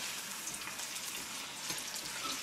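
Tortillas frying in oil in a skillet, a constant hissing sizzle with light crackles, close and even throughout, no voices over it.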